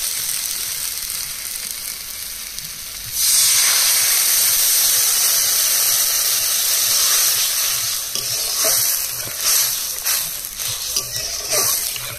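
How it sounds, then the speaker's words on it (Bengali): Water poured into a hot pan of bagda prawn curry sets off a sudden loud, steady hiss of sizzling steam partway through, which persists and crackles unevenly toward the end. "এবার জল দিয়ে দেবো।"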